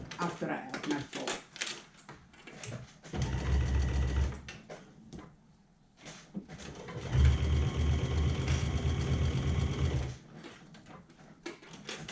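A home sewing machine basting a bra layer runs in two long bursts of steady mechanical whirring, with a voice talking in the pauses between them.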